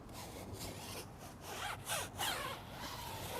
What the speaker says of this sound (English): So I'm just going to scrub it back and forth, and you guys can see how brown this tire actually is.